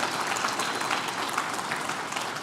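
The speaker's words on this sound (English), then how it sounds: "Can we get a round of applause for everybody involved in this?" Dense, steady applause from a tech conference audience at a developer event, even and continuous throughout a short burst, with no speech over it.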